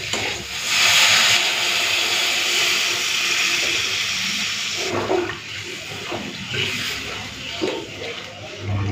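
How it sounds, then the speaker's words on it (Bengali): Water is poured into a fish curry masala in a pan, a loud rushing hiss that swells at the start, then settles into bubbling and sizzling with some clinking near the end. "চলুন এরপরে জল দিয়ে দেবো।"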